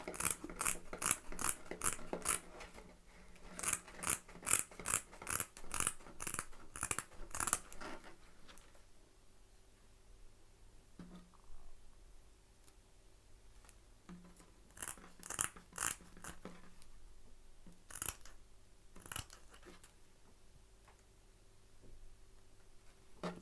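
Scissors snipping through material while shaping a tapering piece, quick bursts of close, crisp cuts in rapid runs, pausing, then resuming with scattered single snips.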